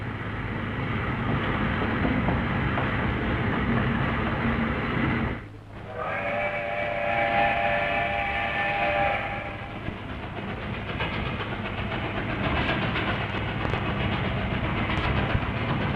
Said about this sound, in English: As the train moved the suburbs, John Tuckman listened to the comforting sounds he knew so well, as the big loco up front strained to gather speed.